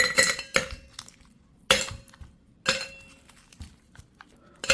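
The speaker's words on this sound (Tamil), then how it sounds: "ஷேக்கர்ஸ் எடுத்து வச்சுக்கலாங்க. ஐஸ் கியூப்ஸ் போட்டுக்கலாம்." Ice cubes dropped into a cocktail shaker, four or five sharp clinks and clatters spaced a second or so apart, close and alone.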